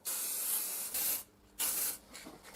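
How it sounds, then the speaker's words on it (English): Clear hobby lacquer sprayed from a rattle can onto an Aliens Colonial Marine M240 flamethrower model kit: three loud, close hissing bursts separated by short pauses. "The lacquer was just ordinary hobby spray, which again was applied using a rattle can."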